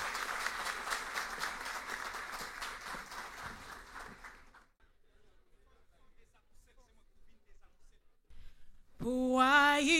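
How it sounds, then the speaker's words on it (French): Audience applause at an event with a Haitian anthem performance, a dense patter of clapping for about four seconds that fades to near silence before a singing voice enters. "sous vos applaudissements, s'il vous plaît"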